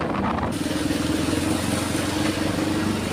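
A motorcycle rides over a newly poured concrete road, its engine giving a steady, close drone with continuous tyre and road rumble and no voices.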